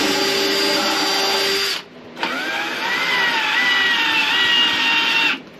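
A power drill drives a screw into wood inside a camper van conversion, two sustained whirring bursts split by a brief pause, the second winding up in pitch, loud and close.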